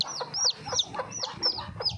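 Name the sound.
hen with young chicks clucking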